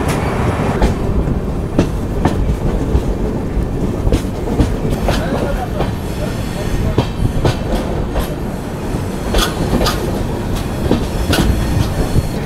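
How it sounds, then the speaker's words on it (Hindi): The Trivandrum–Lokmanya Tilak Netravati Express rolls past close by, loud and steady, with a rapid clickety-clack of wheels over rail joints and an occasional faint squeal. "त्रिवेंद्रम लोकमान्य तिलक नेत्रावती एक्सप्रेस, अब जाके इससे मुलाकात हुई।"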